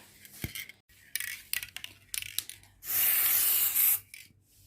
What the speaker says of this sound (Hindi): आके स्प्रे किया क्योंकि मच्छरों ने बहुत तंग किया